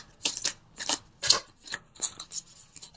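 Tarot cards shuffled by hand in a series of crisp, close riffling bursts with brief pauses between them.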